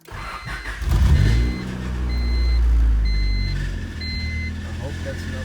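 A car engine cranks and starts while connected to another vehicle, settling into a rough idle accompanied by intermittent high electronic beeps; a voice speaks briefly nearby.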